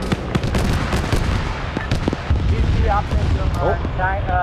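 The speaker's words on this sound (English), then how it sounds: "I know this is rocket artillery" Rocket artillery fires in a US versus Russia tank and IFV battle video game, a rapid series of booming, crackling launches and blasts, while voices talk over the barrage.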